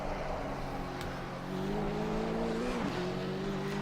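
A Porsche 935 GT2 race car engine drones steadily in Assetto Corsa Competizione, heard from outside, with the pitch rising as it accelerates and then a brief dip as it shifts.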